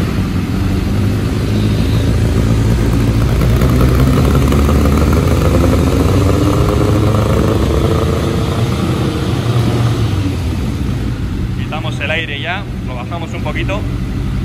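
A Kawasaki GPZ 1100 cafe racer motorcycle engine runs at a steady, loud idle, rumbling continuously throughout, with a few brief sharp chirps near the end.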